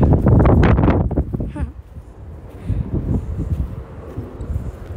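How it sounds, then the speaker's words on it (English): Strong wind buffets the microphone with heavy low rumbling gusts, loudest at the start and then easing to a steady blustery roar. "It's extremely windy."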